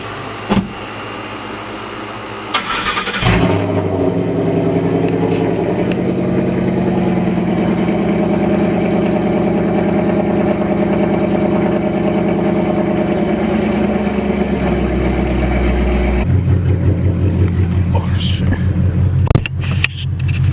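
A Chevrolet Camaro SS engine runs close by with a steady, loud droning idle and deep low hum, shifting pitch partway through, while people talk faintly under it.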